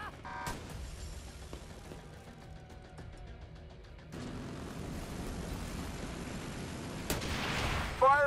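Mortar and artillery fire in a video game, with scattered distant thuds and booms at moderate level, followed by a rising rumbling stretch and a sharp burst near the end.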